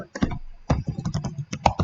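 Typing on a computer keyboard: a quick burst of close, crisp key clicks, then a short pause and a rapid run of further keystrokes, alone with no talking.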